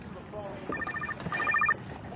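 A phone rings aboard a fishing boat, two short bursts of electronic trilling tone in quick succession, moderately loud over low engine and water rumble, with a voice speaking nearby.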